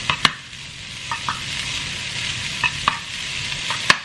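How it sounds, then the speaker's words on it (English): Ramen noodles fry in an oil-coated pan over medium heat, a steady sizzle punctuated by several sharp utensil clacks against the pan, close and without talk. "We're gonna throw in the noodles right now."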